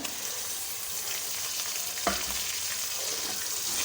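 Okra and prawns sizzling in a pan, a steady close frying hiss with soft stirring scrapes and one brief utensil clink.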